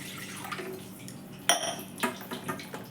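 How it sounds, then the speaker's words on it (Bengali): Water poured into a kadai wok for boiling parwal, with a sharp metallic clink of the pan followed by splashing and pouring sounds against a quiet kitchen background. "কড়াই জল দিচ্ছি,"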